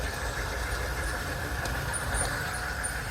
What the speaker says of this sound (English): The Cybertrain accelerates,